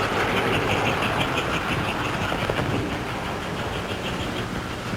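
A continuous running rumble and hum of an American Flyer toy Hudson 464 electric locomotive moving along its track, steady and fairly loud with no talk.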